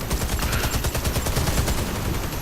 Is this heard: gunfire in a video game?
yes